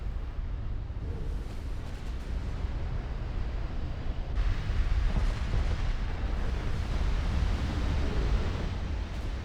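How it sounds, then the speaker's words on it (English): A battleship in a naval strategy game takes torpedo hits, heard as a low, continuous rumble of heavy explosions and distant artillery-like booms that swells louder partway through, with no talking. "Torpedo hits on the battleship."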